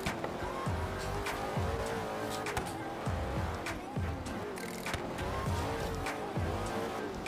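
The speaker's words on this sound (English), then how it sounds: "Another Ferrari over here." A Ferrari passes at a car show, its engine note swelling and fading amid steady crowd and traffic noise, with brief tire or engine bursts recurring through the scene.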